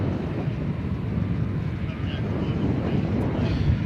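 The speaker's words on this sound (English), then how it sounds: "That was flight 2357 to Denver, American flight 2357, Airbus A321." A steady, loud roar of an American Airlines Airbus A321 jet on departure from DFW Airport toward Denver, a broad continuous rumble holding evenly throughout with wind buffeting the microphone.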